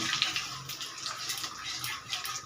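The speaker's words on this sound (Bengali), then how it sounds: "ফোড়ন দিয়ে দেব।" Spices splutter and crackle as they hit hot oil while a ghugni is being cooked, a steady frying sizzle with brief sharper pops, up close and without talk.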